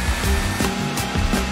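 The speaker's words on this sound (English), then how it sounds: "And turn on the blow dryer." A steady whirring motor drone of a blow dryer runs continuously, loud and close, with slight rhythmic fluctuations.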